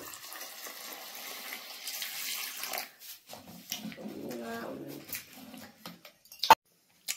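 Tap water runs and splashes while lentils and potatoes are washed in a vessel, a steady stream for a few seconds, then broken, intermittent splashing and handling noises with a sharp clunk near the end.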